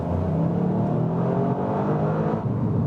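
A four-wheel-drive high-performance car accelerates flat out from a highway toll gate, its engine a loud, steady, rising drone filling the cabin without pause.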